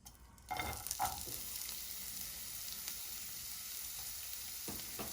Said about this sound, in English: Once our oil is hot, we'll add onion.